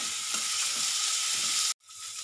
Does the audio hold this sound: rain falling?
no